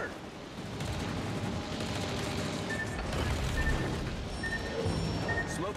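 Naval guns in a warship video game fire on a designated target as a rumbling barrage of booms under steady battle noise, with brief radio-like beeps.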